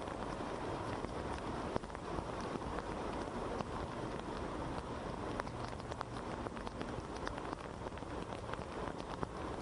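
Heavy monsoon rain pours down in Mumbai, a dense, continuous hiss of drops hitting surfaces, steady and enveloping with no voices.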